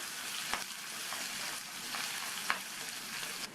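Curry leaves, slit green chillies and crushed garlic sauté in hot oil, giving a steady broadband sizzle with a few sharp stir clicks at intervals; no one speaks.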